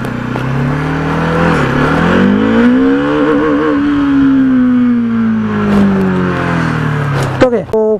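A Bajaj Dominar 400 motorcycle accelerates hard in first gear toward top speed, its engine note rising and sustained loud and close for several seconds before cutting off near the end.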